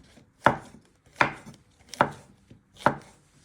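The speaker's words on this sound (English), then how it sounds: "you just keep chopping them down the middle and then slicing them" Mushrooms are chopped and sliced with a knife on a wooden board: four crisp, evenly spaced knife strikes, close and clear, with faint board knocks between.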